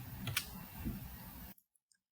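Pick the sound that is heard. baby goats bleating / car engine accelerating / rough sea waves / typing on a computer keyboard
typing on a computer keyboard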